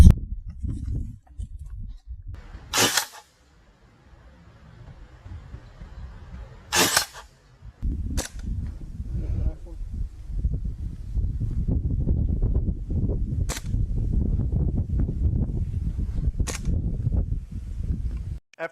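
Springfield Armory M1 Carbine BB gun fired outdoors at close range, several sharp, isolated cracking shots spaced seconds apart, with wind buffeting the microphone between them.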